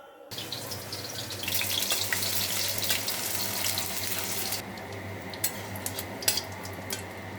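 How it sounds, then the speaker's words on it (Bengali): Potatoes dropped into hot mustard oil in a kadai give a loud, dense sizzle that runs for a few seconds, then eases to a quieter crackle with scattered sharp pops. "তেল গরম হয়ে গেছে। এখন আমি আলুগুলোকে প্রথমত ভেজে নেব"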